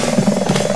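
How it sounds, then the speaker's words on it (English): A helicopter in the video game Slendytubbies: Growing Tension hovers overhead, its loud, steady rotor drone filling the whole moment without a break. "Helicopter is just gonna wait up there."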